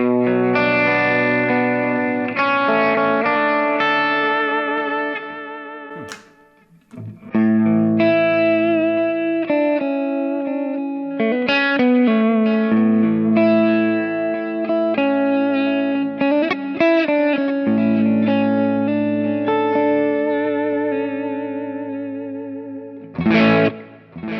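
A distorted electric guitar plays sustained chords and riffs through a Kemper profile of a Dr Z Maz 18 reverb amp, with a brief pause midway and a short burst at the end.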